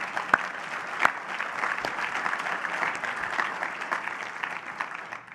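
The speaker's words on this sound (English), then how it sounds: "So a round of applause for our AFCEA partners," At the closing of an AFCEA defense conference, a large audience applauds with a continuous, even wash of clapping, with a few sharper nearby claps standing out, heard alone for over five seconds.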